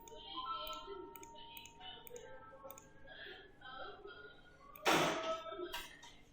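Computer mouse clicking while working in drafting software, a series of soft quick clicks under someone speaking, ending in a louder clatter.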